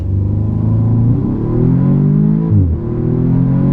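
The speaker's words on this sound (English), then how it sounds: "just like a regular straight up floored launch" A 2017 Audi S3 engine roars under full throttle from a standing launch, a strong, steady rising drone with sharp pitch drops at each upshift, close and loud.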